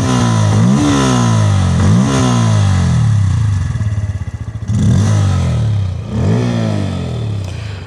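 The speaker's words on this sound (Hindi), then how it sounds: "इसकी जो एग्जॉस्ट साउंड है वो भी मैं आप लोग को सुनाना चाहूँगा" A Bajaj Pulsar N160 motorcycle with its engine running close by, a deep exhaust note that rises in several repeated throttle revs and falls back to idle between them, with no other sounds.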